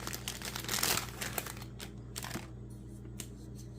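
Cellophane wrapping crinkles and tears as a package of parts from a 35-year-old Academy Road Runner 2 radio-control car kit is opened, in close, uneven bursts of crackling that are loudest early and then thin out into scattered rustles.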